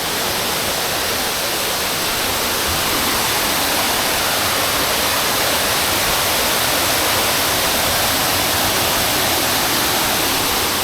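Chet Sao Noi waterfall in Muak Lek, Saraburi, Thailand, roars steadily and loudly up close. The broad, unbroken rush of falling water fills the whole stretch with no talking.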